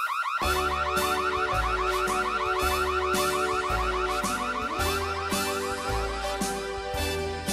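A front door alarm blares continuously, a loud repeating electronic siren with warbling tones cycling in regular pulses and filling the whole stretch without any voices.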